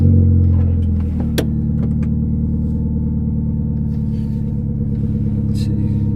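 Turbo Honda Civic engine idling loudly with an open downpipe and no exhaust, a deep steady rumble with throbbing pulses, close by and continuous, a few clicks over it.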